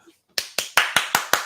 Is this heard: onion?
no